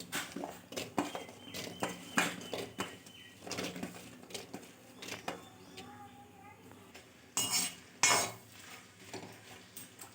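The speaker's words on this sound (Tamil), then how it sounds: "இப்போ வெண்டைக்காவை முதல்ல வதக்கி எடுத்துக்கலாம்" Okra sautés in oil in a pan, giving a soft, continuous crackle broken by frequent spatula scrapes and clinks against the metal, with a few louder knocks toward the end.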